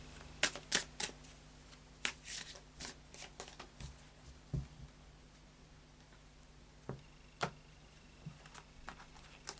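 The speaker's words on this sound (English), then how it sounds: "And a final shuffle of the After Tarot now." A deck of After Tarot cards is shuffled nearby, with quick bursts of crisp riffling and slapping clicks in irregular clusters, alone and fairly quiet.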